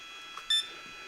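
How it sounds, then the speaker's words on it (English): A single short electronic beep from an RC car's brushless speed controller during calibration, high-pitched and brief, in an otherwise quiet room. "Now you have just 1 beep here."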